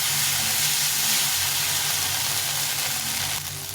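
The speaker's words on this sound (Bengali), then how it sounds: "এই পেস্টটা দিয়ে একটু ভালো করে কষিয়ে দিতে হবে" Green paste of ground ginger, cumin, chilli and garlic frying in a pan for a rohu fish curry gives a steady, loud, broad hiss and sizzle that holds for several seconds with no talk.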